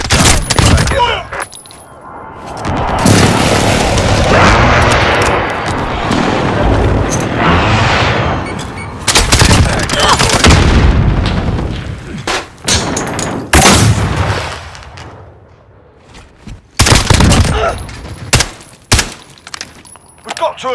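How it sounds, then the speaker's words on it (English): Call of Duty: Modern Warfare battle sounds: a precision airstrike brings heavy booming explosions, mixed with gunfire and irregular loud bursts, with shouted voices at times over a dense, chaotic din. "Precision airstrike available, on your mark!"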